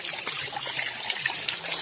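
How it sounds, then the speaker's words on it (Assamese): Water from a mountain stream trickles and splashes close by, a soft, continuous babble with small bright droplets popping over a quiet bed of flowing water. "পাহাৰৰ জুৰি চব"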